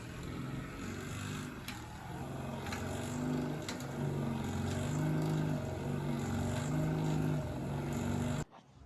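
An electric motor drives a powered spare tire carrier on a Ford F100 with a steady, close droning hum and a layered tonal whine. It runs for several seconds, then cuts off abruptly near the end.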